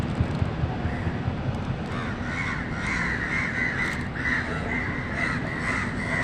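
A crow caws repeatedly in harsh, rasping calls over steady outdoor background noise, the calls running together for several seconds.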